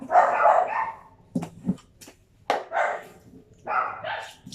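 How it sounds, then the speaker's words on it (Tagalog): A dog barks in several sharp bursts, loud and fairly close, with short pauses between the barks and no talking. "ang ingay ng aso."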